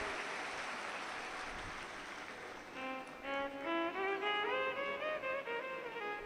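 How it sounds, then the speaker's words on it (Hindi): Crowd applause for a visiting Baba ji at a Shiv Mahapuran religious discourse in Nanded. It starts as a steady, dense clatter, and sustained harmonic music rises over it about halfway through. "एक बार जोरदार ताली बजाएं बाबा जी के लिए जो पधारे।"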